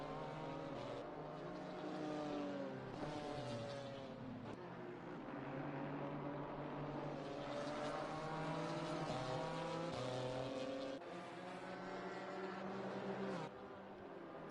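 A BMW GT4 race car engine in Assetto Corsa Competizione at Brands Hatch, on an out lap, revs up and down steadily through gear changes, a continuous harmonic drone that rises and falls with no voices.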